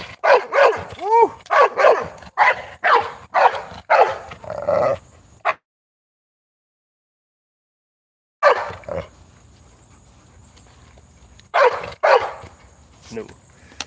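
Four dogs that are not dog-aggressive bark, yip and growl at close range in loud repeated bursts, then go silent, then bark again in scattered bursts over a steady background hum.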